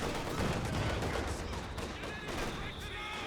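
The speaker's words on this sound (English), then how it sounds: "T-70 firing away." Gunfire from a T-70 light tank in the Company of Heroes 2 battle game, mixed with a dense, continuous din of explosions and small-arms fire across a busy battlefield, loud and sustained without pause.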